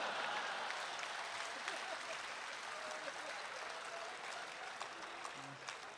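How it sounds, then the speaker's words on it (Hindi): Faint, steady audience applause at a live comedy show, a soft continuous patter of clapping heard from a distance without talk over it. "और ताली तो आप इस बात पर बजाएंगे"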